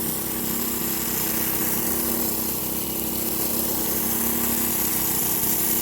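A petrol generator engine runs steadily and close by, a continuous droning hum with a constant tone and no pauses, with no voices over it.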